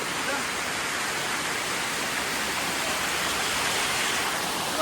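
A small mountain waterfall in Nepal pours in a steady, dense broadband rush, continuous and close, with no pauses and no voices.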